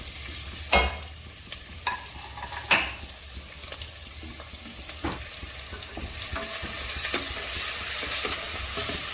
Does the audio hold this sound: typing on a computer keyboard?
no